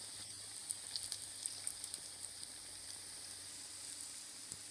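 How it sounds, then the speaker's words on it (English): Mini potato samosas frying in hot oil over a low flame, a steady soft sizzle with scattered small pops and crackles throughout, close and fairly quiet, with no talking. "now we're going to place our mini samosas and fry them until they're nice and crispy and golden brown"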